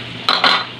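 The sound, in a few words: covering a pan with its lid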